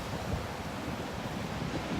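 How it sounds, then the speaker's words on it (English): Large ocean waves at Jalama Beach, a steady dense roar of surf mixed with wind buffeting the microphone, with no talking. "Holy crap, look at the size of these waves."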